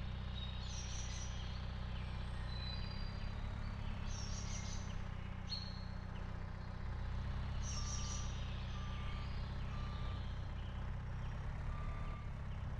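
Truck reversing in a farming video game, a faint steady engine drone with spaced reversing beeps repeating over it, plus some light chirps in the background.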